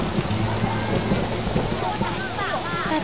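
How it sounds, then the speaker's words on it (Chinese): Steady rain pours down in southern Taiwan as a typhoon approaches, a dense continuous patter with a low rumble beneath it and a few faint voices toward the end. "大太阳的，怎么还下雨啊？"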